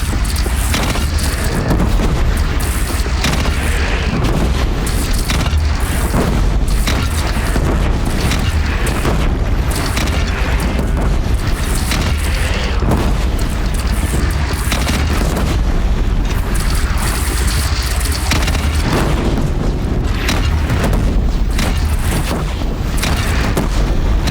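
Cannon fire and explosions in battle in the game Horizon Zero Dawn, a loud, relentless barrage of deep booms and blasts piling onto one another throughout, with no clear pauses.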